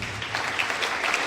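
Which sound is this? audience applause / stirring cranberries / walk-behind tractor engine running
audience applause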